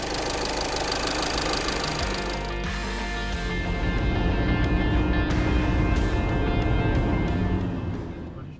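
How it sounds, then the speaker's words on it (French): A VW or Audi engine, just repaired at the intake manifold, cranks and settles into a steady idle, a close, continuous mechanical rumble with faint ticking, running alone without talk. "Nous démarrons maintenant le véhicule et vérifions si tout est bien fixé"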